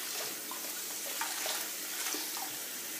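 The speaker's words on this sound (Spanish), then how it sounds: "Pues primero abro el grifo, dejo que salga agua calentita" Water runs steadily from an opened bathroom tap, warming up before face washing, a continuous close hiss and splash with no voices.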